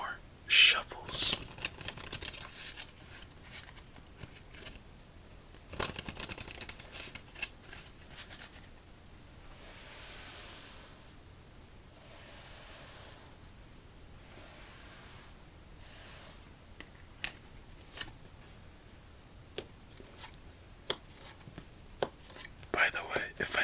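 Playing cards are riffled and bridged in quiet bursts, several shuffles spread out over the recording, with soft whispering and handling noises between them.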